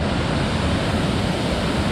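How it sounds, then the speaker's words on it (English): The Eas Fors waterfall on the Isle of Mull roars as a steady, loud wash of falling water, a continuous broadband rush close by with no pauses. "There's a waterfall."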